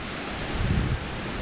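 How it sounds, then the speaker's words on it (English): A river waterfall running a little low over exposed rocks at a campground gives a steady broadband rush, continuous and fairly close, with no voices. "Here we have a nice little view of the falls here. River's running a little low right now."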